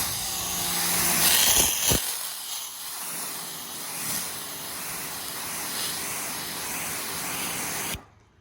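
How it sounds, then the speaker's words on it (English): A pressure washer that keeps acting up sprays with a loud, steady, close hiss. A sharp knock interrupts it early on, and the spray carries on until it cuts off abruptly. "Oh, pressure washer acting up again."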